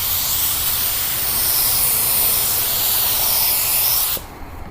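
A spray gun laying a base coat on a car panel, fed by a small Harbor Freight compressor at about 20 PSI, hisses in one loud, steady, close burst for about four seconds before cutting off abruptly.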